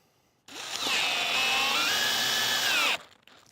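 A power drill drives a screw with a loud, steady whine lasting about two and a half seconds, its pitch shifting as the threads strip, then cuts off abruptly.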